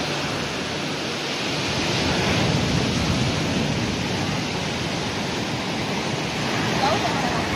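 Steady broadband wash of surf rolling onto a beach, continuous and fairly loud throughout with no distinct breaks between waves, wind mixed in.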